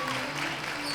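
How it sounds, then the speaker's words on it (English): Crowd applause and cheering at a basketball game, a steady wash of clapping filling the whole moment as a player gets an ovation, with no pauses or breaks. "He's getting a nice ovation from the crowd"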